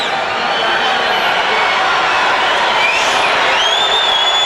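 A basketball arena crowd roars loud and continuous, a dense wall of cheering and whooping with shrill whistles rising near the end, at a 1993 NBA game between the Denver Nuggets and Phoenix Suns.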